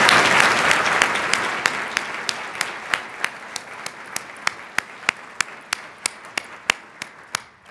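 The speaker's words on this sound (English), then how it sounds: "Give me a round of applause." Applause from an audience at a 2018 CFO symposium introduction ceremony, starting as dense clapping and thinning into scattered, sharp individual claps spaced about a third of a second apart.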